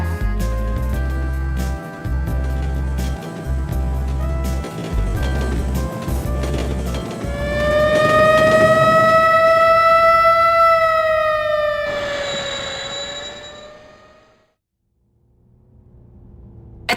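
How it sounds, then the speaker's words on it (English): In the game Robot Alchemic Drive, a local train pulls into a station: a rhythmic low rumble of wheels gives way to a loud, sustained rising-and-falling tonal whine, which fades out before a brief hush. "Arriving on track 1 is a local train bound for Isenjo."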